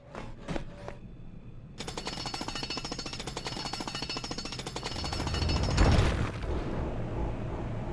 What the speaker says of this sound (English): Come on, Doris, let's get a drilling.